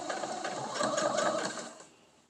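A sewing machine back tacks fabric while making a mask with elastic, a close, fast mechanical whirr lasting about two seconds before tapering off.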